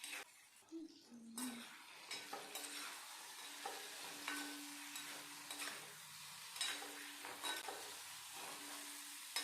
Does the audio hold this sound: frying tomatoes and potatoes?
yes